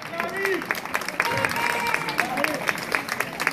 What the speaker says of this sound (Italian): grande applauso per le tre coppie che hanno ballato